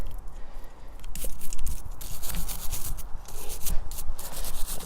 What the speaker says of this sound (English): So rigorously scrub it like this.